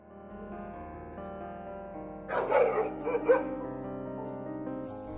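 A guard dog barks at a house door in a short burst of loud, rough barks near the middle of the clip, rising over a steady background of sustained tones and then fading back.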